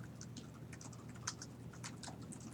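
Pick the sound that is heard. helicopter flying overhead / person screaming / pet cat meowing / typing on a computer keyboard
typing on a computer keyboard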